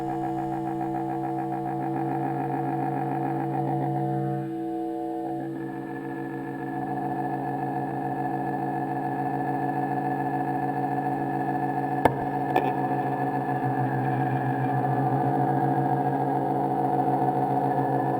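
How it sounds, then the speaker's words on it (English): A steady, buzzing synthesizer drone with layered tones holding throughout, brief clicks near the end, no voices. "this has a very big potential for drony kind of sound"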